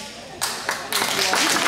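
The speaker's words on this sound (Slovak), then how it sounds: "Ďakujeme za potlesk" Audience applause after a girls' ball-passing coordination exercise, a burst of clapping that swells and thickens over a few seconds, with a voice speaking over it.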